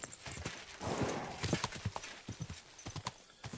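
Horse hooves clip-clop in rapid uneven beats as a horse travels in the video game Kingdom Come Deliverance 2, heard at moderate distance under a faint broad ambient wash with no talking.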